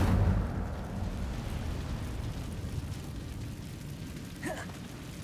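An Incendio fire spell in Hogwarts Legacy erupts with a loud low whooshing roar at the start, then settles into a sustained rumbling crackle of flame that fades slowly, with a short whistling swish near the end.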